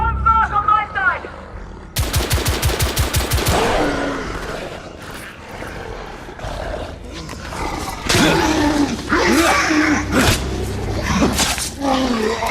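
Gunfire in The Order: 1886, a rapid volley of shots followed by scattered loud bursts and heavy impacts, with roaring noise and a voice heard in between.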